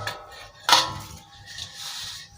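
A large metal pot used for mixing a fishing bait formula clanks once when it is picked up and set down, followed by faint scraping and rattling nearby.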